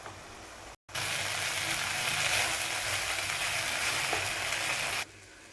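Barnyard millet upma with beans stirred and mixed in a hot pan, a steady close sizzle and scraping that runs continuously after a brief gap, then stops abruptly near the end.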